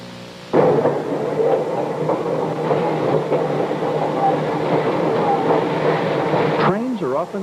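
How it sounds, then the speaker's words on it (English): Electric interurban train cars on the North Shore Line in 1945, heard at the railway shops where cars are coupled and uncoupled. A sudden metallic clank opens a rumbling, grinding stretch of rolling stock that ends with a squeal. "Trains are often coupled and uncoupled here"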